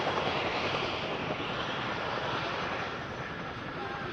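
Loud, steady roar of an RAF Boeing Chinook twin-rotor helicopter flying a role demo at the Duxford Summer Airshow, a dense broadband engine and rotor wash that holds constant for several seconds with no clear voices.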